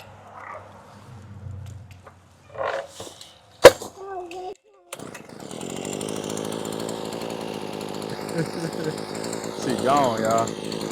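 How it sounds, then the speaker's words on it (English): A power drill bores two holes for a tight fit, starting after a loud clack and then whirring steadily and loudly with shifting pitch as it cuts, following a stretch of speech. "So I'm going to drill 2 holes, and it should fit then."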